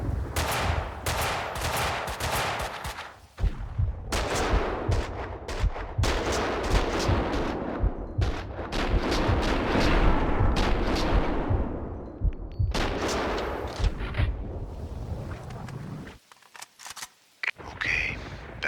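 Bursts of Kalashnikov and Dragunov gunfire from the Max Payne 2 video game, loud rapid volleys and single shots repeating over roughly fifteen seconds with brief pauses between, ending in a quieter stretch.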